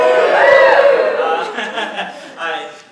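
A classroom audience at a writing lecture cheers and laughs in a short burst of crowd voices, close and fairly loud, mixed with chatter.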